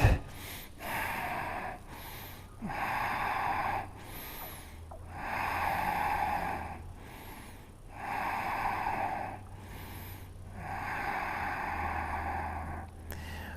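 Slow, deep breaths during a yoga stretch, with long airy inhales and exhales alternating in a steady rhythm of about four full cycles, close to the microphone and with no talking.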